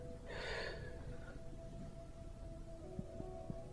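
One deep breath, a breathy inhale near the start that fades into a softer exhale, faint and close with a low hum underneath.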